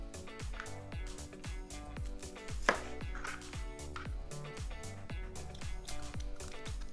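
Broccoli is chopped with a knife on a cutting board in steady, rapid strokes, each crisp knock landing close and clear in an even rhythm.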